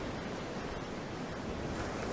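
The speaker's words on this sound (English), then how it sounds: "The only way to keep count was the waves crashing against the shore." Ocean waves crash against a shore in a steady, loud, full-band wash with no voices, a continuous roar of surf.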